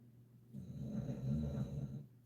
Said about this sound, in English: which seems to make him snore even more.